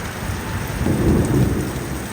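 Heavy rain pours steadily, a loud, dense hiss of drops hitting surfaces, swelling briefly with a low rumble near the middle.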